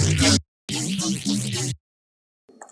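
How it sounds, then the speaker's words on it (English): A reversed Serum synth sample, resampled with altered time stretching, plays as two choppy, voice-like bursts with stepped tonal bands, then silence and a faint trailing fragment. "I have another reversed without the pogo effect, but with different time stretching settings."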